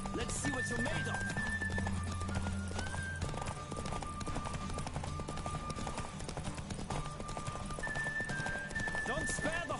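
Racing horse in The Witcher 3: Wild Hunt, its hooves beating a quick, driving gallop throughout, layered with music, a neigh and spoken voices.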